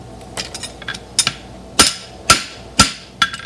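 A farrier hammers a fullered front horseshoe, striking metal on an anvil in a series of sharp, ringing blows, some light taps and several heavy clangs spaced about half a second apart, close and loud with no voices.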